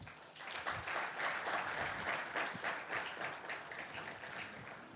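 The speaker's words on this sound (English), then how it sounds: "please give a warm round of applause for Mr. P.B. Balaji." A conference audience at a finance session applauds a panelist being welcomed, a moderate, fairly distant round of clapping that holds steady for about five seconds.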